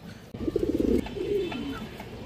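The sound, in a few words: China Khaki male pigeon cooing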